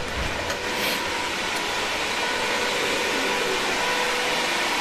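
Loud continuous broadband whine and rush from a room of crypto mining rigs, ASICs and Octominer machines with RTX 3060 Ti cards, plus an AC Infinity 8-inch exhaust fan, steady and dense throughout with no voices.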